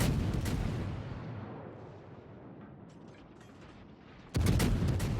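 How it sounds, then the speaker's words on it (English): Heavy naval gunfire from the light cruiser Atlanta in World of Warships, a loud rumbling barrage that fades into a sustained roar before another sharp, powerful salvo bursts in near the end. "But the Atlanta here is pretty safe and can just continue firing and"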